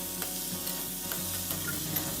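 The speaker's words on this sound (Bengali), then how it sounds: "এই ঝিঙে আলু ভাজাটা করে নেব" Ridge gourd and potato fry in a pan with a steady, close sizzle, a continuous frying hiss with faint stirring scrapes and no voices.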